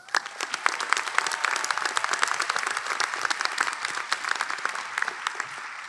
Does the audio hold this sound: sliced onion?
no